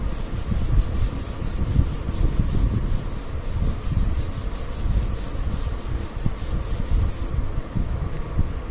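Writing being rubbed off a board, a continuous close scrubbing and rubbing with a steady rhythm of strokes, no speech.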